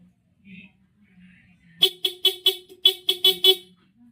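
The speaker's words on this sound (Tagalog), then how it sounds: "tapos ang ating busina" A Yamaha Mio i 125 scooter fitted with dual stock and PIAA horns gives about eight short, sharp honks in quick succession, close and loud, following a little faint speech.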